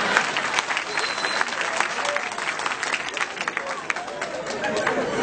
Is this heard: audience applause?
yes